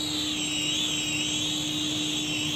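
Bo Ming BM-Copter quadcopter on a test flight, its motors giving a steady, high-pitched whine with a constant low hum underneath, close and continuous.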